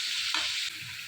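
Tomatoes and green chillies fry in hot oil, giving a steady broadband sizzle with a brief stir near the middle, close and moderately loud with no talk.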